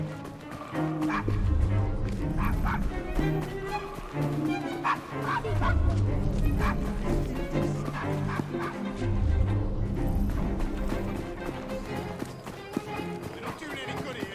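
Dog barking in the Assassin's Creed Syndicate video game, set in Victorian London, with repeated barks and yips over a continuous backdrop of game music and ambient noise while voices speak.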